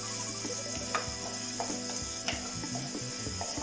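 Small onions (shallots) fry in oil in a pan for a prawn, jackfruit seed and raw mango curry: a steady close sizzle with occasional light metallic clinks and scrapes.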